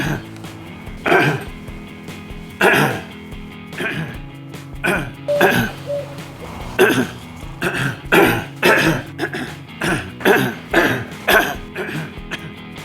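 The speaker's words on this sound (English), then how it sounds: "I do suffer from the occasional coughing fit" A man has a coughing fit, with repeated harsh coughs in bursts over several seconds, loud and close, with a few throat-clearing sounds in between.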